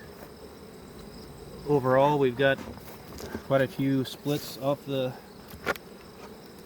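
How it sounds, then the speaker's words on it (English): Honeybees buzz steadily around outdoor hives in a beeyard, a near, continuous insect hum running beneath a voice speaking in short bursts. "these bees are doing really awesome out here"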